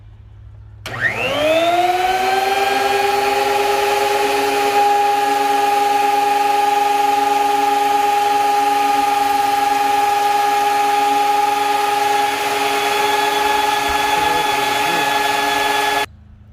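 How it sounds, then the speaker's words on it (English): A wood planer spins up with a rising whine, then runs loud and steady for about fifteen seconds as a board feeds through, before cutting off abruptly. "when you're working with the planer. I'm gonna feed it through."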